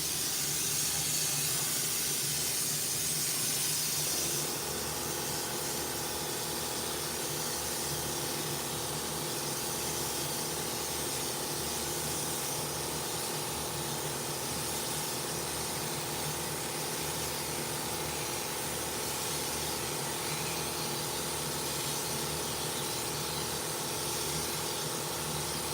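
Spray gun laying down a coat of paint on a skateboard deck with pre-flaked custom lowrider patterns, a steady continuous hiss running loud and alone the whole time, a brief shift near the start.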